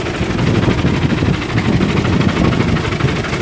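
Tractor engine running as it slowly works an orchard field, a loud, steady low rumbling drone close by with no talk over it.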